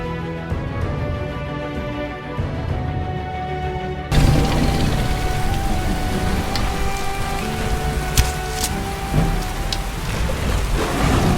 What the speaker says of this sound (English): Under the cover of an Obsidian weather downpour